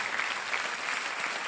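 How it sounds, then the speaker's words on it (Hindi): Sustained applause from a television game show studio audience, steady dense clapping filling the whole stretch without a break, with no voices standing out. "छोटे भाई साहब अभी तक खड़े हुए ताली बजा रहे हैं"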